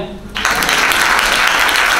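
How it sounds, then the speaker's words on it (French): A seminar audience at a real-estate event breaks into loud applause after a brief spoken lead-in, sustained dense clapping close and steady to the end. "On peut l'applaudir?"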